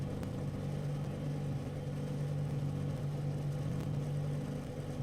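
A race car engine in the video game Assetto Corsa Competizione holds a steady droning hum at near-constant revs, loud and unbroken, heard alone with no talking.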